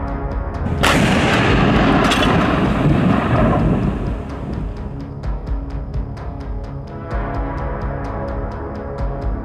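A heavy blast from an MT-12 'Rapira' anti-tank cannon booms loudly on a front line, followed by a second shot and a long rumbling echo that fades into steady background noise.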